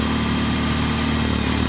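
BMW R18 Roctane motorcycle idling, a steady deep rumbling throb from the big engine, close and continuous with no talk over it.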